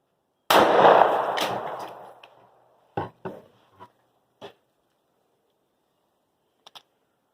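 A single loud gunshot from a 3.1 inch Ruger LC9S pistol firing Koenig Defense 9mm 110 grain jacketed hollow point ammunition, sharp and close with a decaying echo, followed by scattered faint clicks and clatters.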